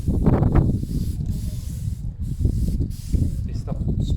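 Aerosol can of Plasti Dip rubber coating sprayed onto Suzuki Bandit motorcycle parts, giving a steady close hiss in short bursts with pauses, while a person speaks over it.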